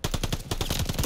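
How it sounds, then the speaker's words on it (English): Light machine gun fire in a video game, a rapid sustained burst of loud, evenly spaced shots with a short pause midway, close and alone without talk. "This guy has his stupid light machine gun."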